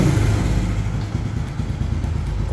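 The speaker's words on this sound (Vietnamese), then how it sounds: "Rồi nổ máy" A Honda Wave S motorcycle engine starts and runs loud and close with a rough, throbbing idle indoors, and it settles slightly after the first moment.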